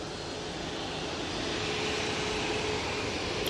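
A Ryanair Boeing 737 MAX 8 jet departs from Manchester Airport with a broad, steady engine roar that swells slightly as it climbs away, with no voices over it.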